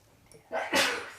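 A single sharp sneeze, a short intake followed by a bright, noisy burst that trails off, fairly close.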